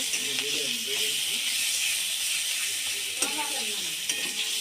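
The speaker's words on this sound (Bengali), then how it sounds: "1 চামচ জিরে গুঁড়ো, 1 চামচ হলুদ গুঁড়ো দিয়ে ভালো করে কষিয়ে নেব" Chili paste with cumin and turmeric powder sautés in a pan, giving a steady hissing sizzle with a few soft stirring scrapes near the start and again toward the end.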